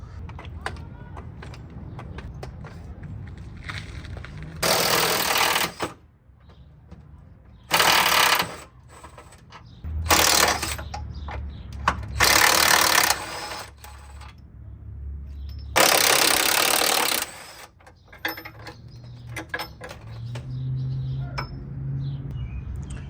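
Hand tools working on 14 mm bolts holding the support bar under a Mitsubishi Lancer Evolution X, several loud bursts of an impact or ratcheting tool separated by metallic clinks and handling noises, close up.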